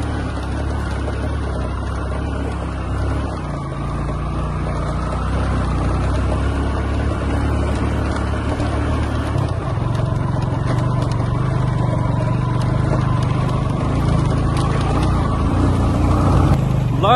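A motorbike engine runs continuously on a village track through jungle, a steady low drone that swells slightly as it moves, with faint voices in the background.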